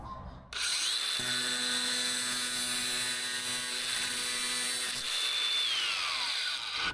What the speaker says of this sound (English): the old angle grinder does a pretty good job